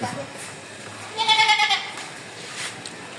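A goat gives one wavering, drawn-out bleat close by, standing out from quiet background noise.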